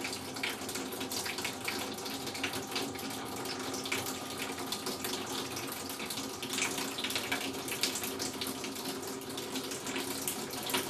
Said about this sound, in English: switches on the middle pump, which will lower the water level, hopefully to the correct operating level